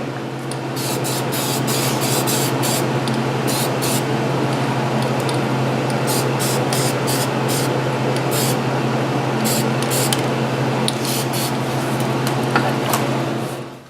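Spray can coating a welded bar clamp for an off-road light bar in a cold shop, a loud continuous hiss broken by short bursts as the nozzle is pressed repeatedly, close and alone.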